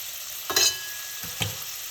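White onion sizzles in a soup pot for a one-pot seafood soup, a steady frying hiss broken by two soft knocks of stirring.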